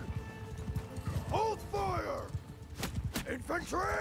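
Horses clip-clop in the Mount and Blade 2 Bannerlord video game, with irregular hoof thuds and bursts of whinnying, joined by scattered clanks and someone talking over them.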